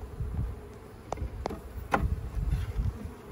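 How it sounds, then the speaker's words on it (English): Honey bees from an overwintered hive during spring maintenance buzz close by in a faint, uneven hum, broken by a few short sharp knocks. "I'm trying not to squish bees."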